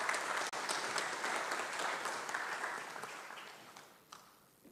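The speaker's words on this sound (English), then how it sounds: "may we put together a round of applause" Sustained audience applause welcoming a keynote speaker at an event honouring Julius Nyerere, a broad even wash of clapping from a large crowd that gradually fades toward the end.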